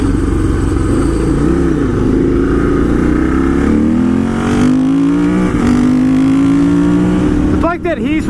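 Custom café-style Ducati 900 SS motorcycle engine droning steadily while riding, pitch rising through gears, loud and close with wind noise throughout.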